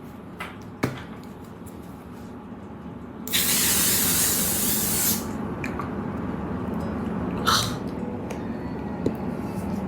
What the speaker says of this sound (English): we're gonna set it using this L'Oreal Infallible Setting Spray.